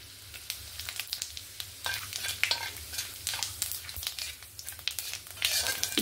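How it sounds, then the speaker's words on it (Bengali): Cumin seeds and a bay leaf sizzle in hot oil for a Bengali fish curry, crackling and popping in irregular bursts that grow busier toward the end, with occasional stirring scrapes in the pan. "জিরে আর তেজপাতাটা সুন্দরভাবে ভাজা ভাজা হয়ে গেছে।"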